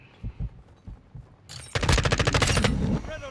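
Call of Duty Modern Warfare II gunfire starts after a few soft thuds: a close, loud burst of rapid automatic shots in quick rhythm, then tapering off.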